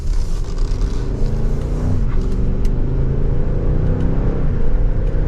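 Continuous V8 engine drone inside a moving 2024 Range Rover P530 SE, with engine tones shifting in pitch as gears smoothly downshift, over broad road and wind noise.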